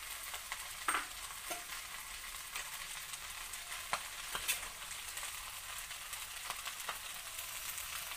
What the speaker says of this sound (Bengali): আর একটু এটাকে নেড়ে নিই, তারপর এটাকে জল দিয়ে দিব, আর একটু ভাজা ভাজা করে নিই।